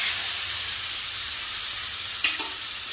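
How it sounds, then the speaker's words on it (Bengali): Ghee and bay leaf sizzle steadily in a kadai, a constant bright frying hiss with one brief clink near the end and no talking. "বসিয়ে দিলাম কড়াতে ঘি আর তেজপাতা দিয়ে দিয়েছি"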